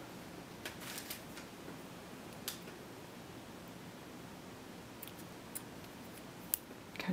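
Scissors snip through crochet yarn in a few quiet, sharp cuts spread over several seconds, with light rustling of the yarn between them and no talking.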